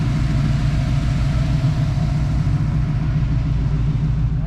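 A Chevrolet Silverado truck with a 396 engine runs at a steady, deep, rumbling idle close by, loud and continuous with no speech.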